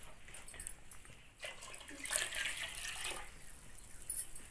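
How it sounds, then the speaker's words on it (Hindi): Water is poured into a pot of urad and rajma khichdi with rice, a faint splashing and trickling that swells in the middle and then tapers, quiet and close. "जितना आपको चाहिए होता है ना उतना पानी डाल लेना है"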